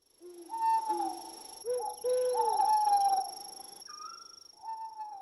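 Soft tonal calls of an owl at night, a few drawn-out hoots and warbling notes in sequence, fairly close and clear with no voices.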